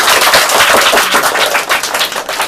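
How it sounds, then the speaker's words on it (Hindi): Loud, dense applause from a seated audience cheering a child contestant at a kids' quiz show seminar, steady crackling claps filling the whole stretch without a break. "और इनके लिए एक जोरदार ताली लगाइए"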